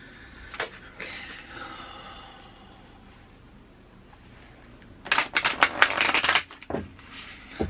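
Close shuffling of a new tarot deck that is stiff to shuffle: a few light riffles early, then a loud, rapid burst of flicking and slapping cards near the end.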